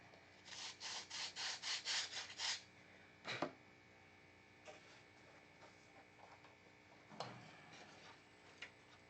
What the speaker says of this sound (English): need a couple more swipes on it with sandpaper